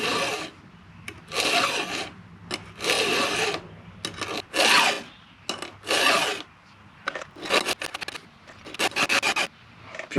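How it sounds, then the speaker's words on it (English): Round file strokes rasp across the cutting teeth of a Stihl chainsaw chain, a sequence of loud, close, bursty forward passes with short gaps between them, some slower and some quicker, with no talking. "You don't really want to drag the file backwards across the tooth."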